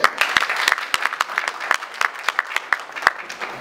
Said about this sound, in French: Alors applaudissez!